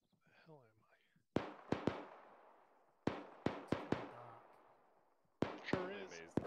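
Gunshots in the Arma military shooter game, a series of sharp single cracks spaced irregularly, some in quick pairs, each trailing off in a decaying echo, with brief voice chatter between.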